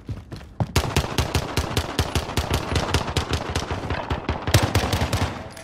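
Semi-automatic gunfire in a shooter video game, a long rapid string of loud, evenly spaced shots, close and steady, continuing for several seconds with only brief pauses.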